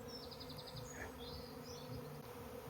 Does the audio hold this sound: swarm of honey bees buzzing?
yes